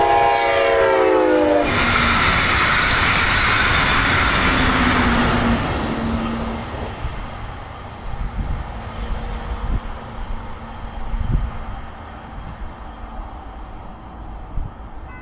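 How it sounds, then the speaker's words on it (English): Brightline passenger train in a Red Bull wrap passing northbound on Florida track, opening with a loud horn blast, then a sustained rolling roar that gradually fades with a few clicks as it moves away. "here's the Red Bull Wrap train, northbound, passing the Grant Set-Out track"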